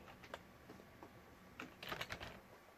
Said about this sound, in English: Start typing it in.